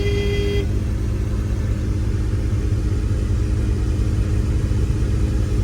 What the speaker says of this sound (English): Traffic is kind of bad